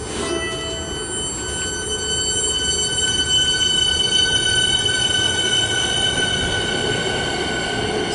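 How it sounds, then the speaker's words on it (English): Melbourne suburban train pulling out of Clayton station on a chilly, sunny day, a steady loud rolling rumble with sustained high metallic wheel squeal tones running throughout, close by and without talk. "And we've got the train now departing."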